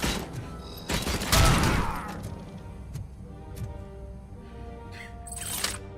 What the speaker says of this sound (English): RoboCop, did you just shoot that guy?